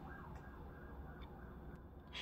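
Emergency vehicle sirens pass by outside a home on a windy day, faint and muffled under steady broadband room noise, a continuous wail with no talking.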